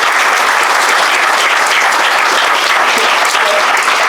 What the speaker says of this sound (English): So a round of applause for our panel